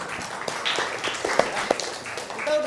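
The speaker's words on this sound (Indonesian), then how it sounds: "tepuk tangan dulu dong." Classroom of students applauding, a short burst of scattered hand claps with voices mixed in, moderately close and fairly quiet.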